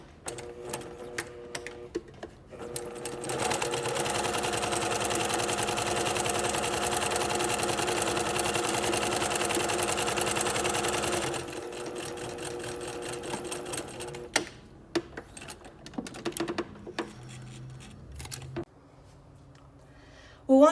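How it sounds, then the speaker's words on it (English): Sewing machine sewing a quarter-inch seam with backstitching: one long loud stretch of rapid motor hum and needle chatter, then slower bursts and stops, ending in clicks and handling noise. "Now we are going to sew down our seam at 1/4 inch seam allowance again"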